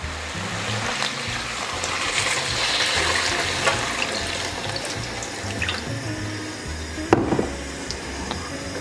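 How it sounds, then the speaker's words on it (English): Water pours and splashes steadily into a pan or pot for several seconds, with a short clatter near the end; no talking. "I'm also going to add in some water"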